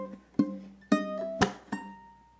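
Single plucked ukulele notes picking out one measure of a 12 bar blues, about five distinct plucks in an uneven rhythm, each ringing briefly and decaying, played close and alone without talk.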